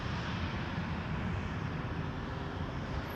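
A Jazz RJ900 regional jet taxis across the field at Toronto Pearson, its engines producing a steady low roar and whine that stays fairly close and even for the whole stretch.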